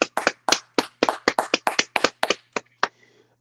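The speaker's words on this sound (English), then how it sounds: "Can we get a clap, please?" A short burst of hand clapping, about fifteen sharp, fairly loud claps in a quick uneven rhythm with no talking, trailing off into a faint rustle at the end.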